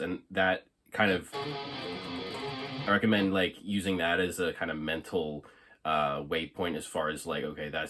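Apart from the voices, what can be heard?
No distinct noise like a dog, phone or traffic.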